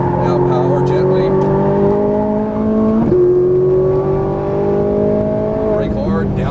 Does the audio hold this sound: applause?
no